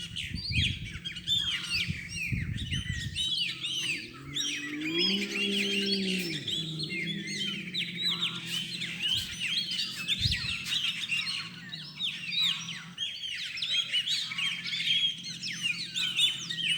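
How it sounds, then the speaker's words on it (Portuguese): Blackbird, canary and parakeet sing in a dense, continuous outdoor chorus of chirps and trills, with a low hum under the calls for a couple of seconds near the middle. "Pássaro preto, canarinho, maritaca."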